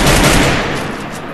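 A loud, close sniper rifle shot in the Free Fire video game, one sharp blast decaying into a fading rumble.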